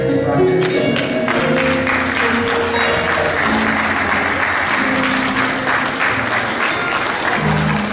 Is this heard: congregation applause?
yes